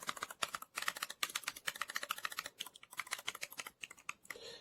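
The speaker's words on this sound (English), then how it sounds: "These buttons are very clicky." Clicky buttons on an 8BitDo All-Button Arcade Controller are pressed in fast, dense, irregular clatters, close and fairly quiet, with no talking.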